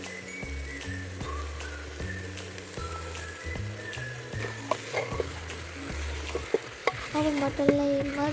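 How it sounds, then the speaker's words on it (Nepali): Mutton being stirred and fried in a pan, a continuous close sizzle with repeated scraping and clattering strokes of a spoon, growing busier toward the end, no voices. "अब मटनलाई मजाले चलाउँदै गर्ने जबसम्म हात थाक्दैन तबसम्म मजाले चलाउने"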